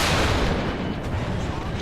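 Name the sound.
bomb explosion in video game War Thunder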